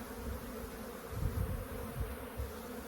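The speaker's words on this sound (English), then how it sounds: "And look all those bees in there." A dense, steady buzzing of many honeybees in an open hive, close and continuous, swelling slightly in low rumbling pulses.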